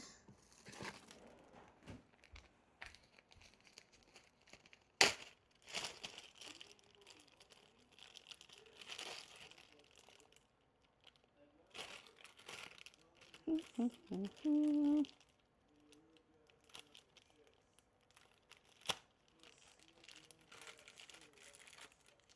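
Plastic bag crinkling in quiet, scattered bursts with soft rustles and a few sharp crackles, fairly close, with brief murmured speech in between.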